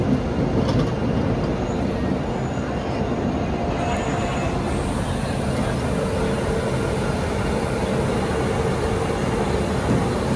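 Two Shatabdi Express trains pulling out of Howrah station together, a steady dense rumble and roar of rolling coaches lasting throughout, close and loud, with a faint high whine above.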